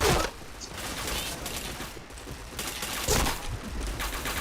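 Dense, continuous video game gunfire with headshot hits, a rapid crackling fusillade that runs the whole time at fairly steady loudness and swells slightly near the start and end.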